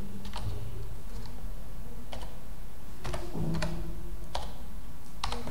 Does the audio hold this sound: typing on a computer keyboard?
yes